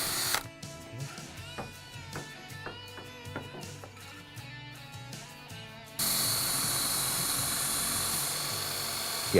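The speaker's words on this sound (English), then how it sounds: "So I'm going to drill through" A power drill bores through a door fitted with flat track hardware, a board held underneath; uneven whirring and clicking starts and stops, then a steady loud high drilling sound runs through to the end.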